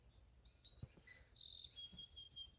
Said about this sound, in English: this one will just have the birds as background noise